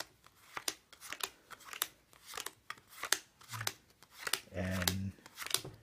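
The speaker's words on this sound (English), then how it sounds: "They're dealing down cards." Playing cards dealt down one at a time onto a surface by a spectator during a card trick, giving a steady run of crisp, close snaps and slides, with a brief spoken voice partway through.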